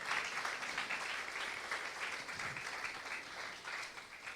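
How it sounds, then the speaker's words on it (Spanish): A church congregation claps during a year-end worship service, a steady, moderately distant patter of many hands that carries evenly without speech before tapering a little. "Un aplauso para Milce acá."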